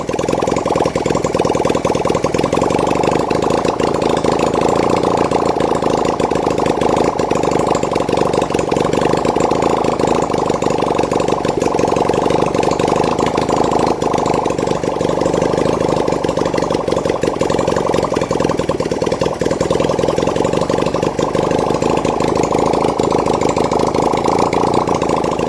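A 1971 Honda CD175 K3 motorcycle under restoration idles steadily, a loud, even mid-pitched engine hum running unbroken throughout with no talking.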